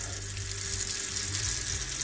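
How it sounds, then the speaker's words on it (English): Water poured from a tap into a plastic bottle, a steady continuous hissing rush with a faint rising tone, close and unbroken for the whole moment, no voices. "simply put a little bit of water in it"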